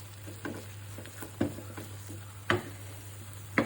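Dried bamboo-leaf fish frying in oil in a pan and being turned: a quiet low sizzle with a faint steady hum, broken by a few sharp scrapes and knocks, close, no voices.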